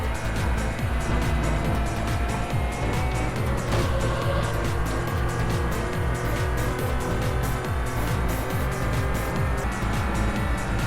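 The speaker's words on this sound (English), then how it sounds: "This has a weird engine sound." A steady, loud car engine drone from the racing video game Import Tuner Challenge, a stock Toyota Crown Athlete in a time attack race, holding a constant whine throughout with a slight shift partway, no talk.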